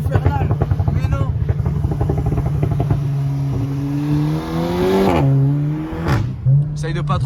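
A SEAT Leon Cupra engine idles with a rough, pulsing rumble, then revs up and drops back, with a couple of sharp pops and bangs; a voice is briefly heard over it.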